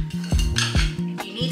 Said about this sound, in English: So give it a good stir.